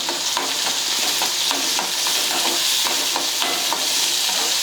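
Finely chopped onion and curry leaves fry in a pan with a dense, continuous sizzle, broken by quick, regular ticks and scrapes of a spoon stirring throughout.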